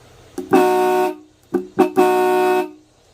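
Loud 1940s Mopar dual car horns on 6 volts honk up close: a short tap, a half-second blast, two quick taps, then a longer blast, alone.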